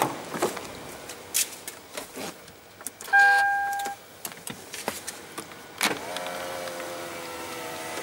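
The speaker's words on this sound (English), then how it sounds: "I think I might just go wind the window back up." Electric power window motor winding a window up on a 2010 Toyota LandCruiser GXL V8 with a 4.5-litre twin-turbo diesel, a steady whirring hum lasting under a second, close by among scattered clicks and cabin knocks.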